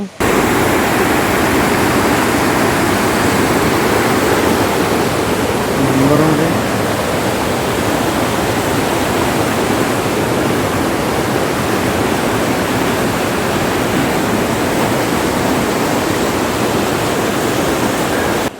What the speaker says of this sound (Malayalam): തെക്ക് വടക്ക് ദിശയിൽ ഒഴുകുന്ന വലിയ തോടാണ് മഴക്കാലത്ത് വെള്ളം നിറഞ്ഞൊഴുകി വെള്ളച്ചാട്ടമായി മാറുന്നത്